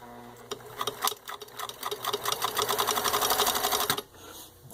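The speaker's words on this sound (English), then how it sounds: "I'm just going to show you how well it stitches. Got 6 layers of denim." A Pfaff 362 zig zag sewing machine stitches through six layers of denim, giving a fast, steady mechanical chatter of needle strokes that runs for about four seconds before stopping, close and moderately loud with no talk.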